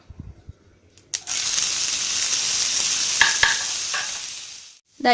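Chopped ginger drops into hot coconut oil in a pan: a few soft handling taps, then a sudden loud, steady sizzle that carries on with occasional spoon scrapes before quieting near the end.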